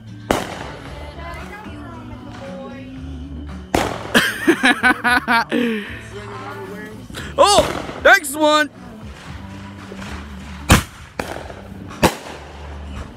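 Fireworks crackle and bang in irregular bursts at a Fourth of July celebration, some rapid popping clusters and sharp single reports, with people talking and exclaiming between them.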